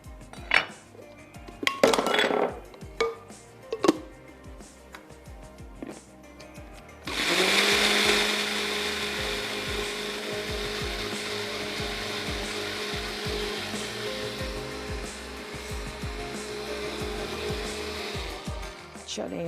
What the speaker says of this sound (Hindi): और इन स्लाइसेस को भी हम अच्छा सा पीस लेते हैं।